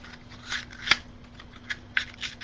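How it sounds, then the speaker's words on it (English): Scissors fussy cutting fabric, a few soft close snips and rustles spaced irregularly, quiet and without talk. "We're gonna fussy cut that."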